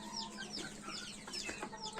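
Chickens cluck and chirp softly in a steady, busy chatter, fairly faint and with no voices.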